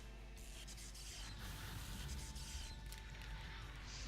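Fire Spanner attack effect from the Super Robot Wars Z3 video game: a loud, sustained roaring blast of hissing noise that swells and surges throughout, layered over a steady musical backing.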